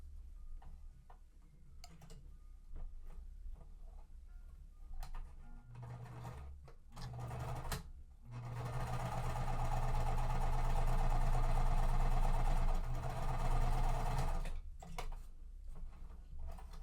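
A sewing machine stitching quilt pieces together, heard up close in quiet: short bursts of rapid ticking, then one long steady run of whirring stitches, stopping and starting again near the end.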